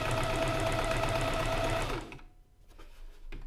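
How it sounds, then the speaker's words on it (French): A Silvercrest sewing machine stitches fabric in a steady, loud whirring run for about two seconds, then stops abruptly, leaving quiet handling noises. "là vous allez appuyer sur la pédale et la couture"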